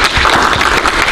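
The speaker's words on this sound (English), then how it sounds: "Let us give a warm applause and welcome for our guest" Warm applause from an audience welcoming a guest speaker at a Sons of the American Revolution program on revolutionary music, a dense steady clatter of clapping filling the short moment without voices.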